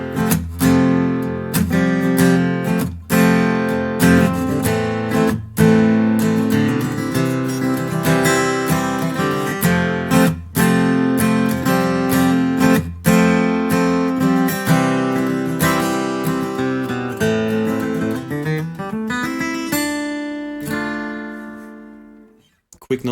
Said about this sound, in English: what I'll do as well is do a muted strum, like wannabe mandolin chop on the guitar